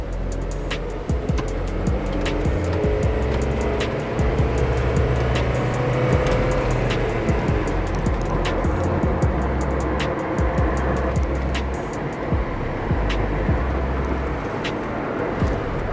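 A used car with a CVT transmission drives along on a test drive, giving a steady, smooth engine and road drone with tyre noise and small clicks and knocks throughout, with no audible gear shifts.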